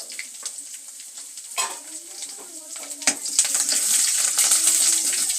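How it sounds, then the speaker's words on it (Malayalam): Curry leaves, ginger and garlic sauté in hot oil in a pan, a steady close sizzle and crackle that swells louder toward the end, with occasional scraping stirs. "പിന്നെ നമുക്ക് ഇഞ്ചി, വെളുത്തുള്ളി ഇതൊന്നിട്ട് ഒന്ന് വഴറ്റി കൊടുക്കാം കേട്ടോ."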